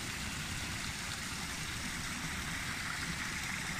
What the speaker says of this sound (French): Il y a des jolies petites, petites cascades là.